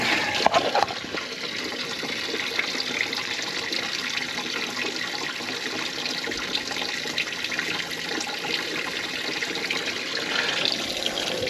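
Water splashing over the gills of a caught 5.7-pound largemouth bass at Diamond Valley Lake, a continuous close rushing and sloshing that stays steady and fairly loud throughout, with no voices.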